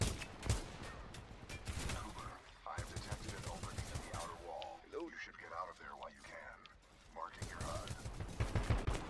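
Gunfire in the video game Titanfall 2, rapid bursts of sharp shots clustered at the start and end with a quieter stretch between, mixed with game sounds and a voice talking over it.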